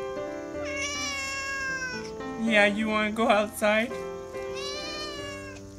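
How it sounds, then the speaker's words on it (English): A talkative pet cat meows several times up close in long, drawn-out calls, some rising and wavering, while a person talks to it between and over the meows. "Yeah, she's a very talkative cat."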